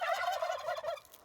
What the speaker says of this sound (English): the turkeys had something to say.